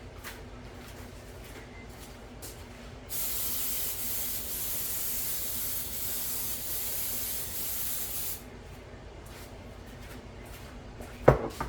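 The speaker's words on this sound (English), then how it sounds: "we're going to get our loaf pan ready. I'm going to go spray this over the sink" A sustained spray from an aerosol can of cooking spray into a loaf pan over a sink hisses for about five seconds, close by, followed by a sharp clatter near the end.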